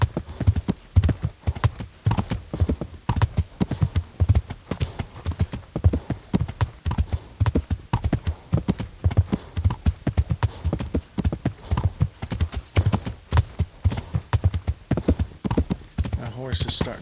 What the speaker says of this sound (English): My horse is starting to get winded.